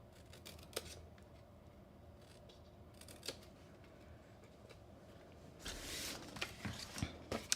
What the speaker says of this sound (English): And then I'm going to come in and miter cut this tab.